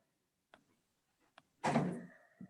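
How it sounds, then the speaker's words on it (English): An office door swings shut with a single close, loud thud and a brief rush of noise, preceded by a couple of faint knocks, with no talking. "I'm going to close my office door."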